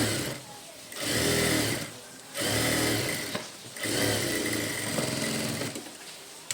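A sewing machine stitching the lining of a blouse for a small child, running in three steady whirring bursts of about a second each, separated by brief pauses, close and loud.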